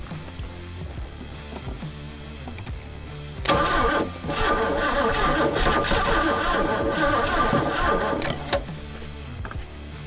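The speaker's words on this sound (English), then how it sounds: "Why don't we turn the ignition on? We'll try that." A 1976 Jeep CJ5, abandoned for twenty years, cranks over after the ignition is switched on: a dense mechanical churning bursts in loud and close, runs for several seconds, then cuts off with quieter rumbling on either side.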